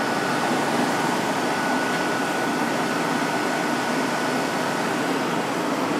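A 2002 Whirlpool 5,000 BTU window air conditioner on its high setting, giving a steady, loud, broadband rush of fan and airflow with a faint constant hum, unbroken throughout.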